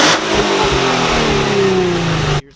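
An Infiniti G35 engine fitted with a new exhaust revs loudly and up close, holding a rising and then easing drone for about two seconds before cutting off abruptly, with no talking.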